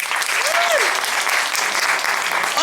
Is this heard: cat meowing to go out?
no